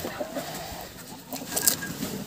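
A hen clucks in short, uneven bursts inside a greenhouse against faint outdoor background noise, with no one talking.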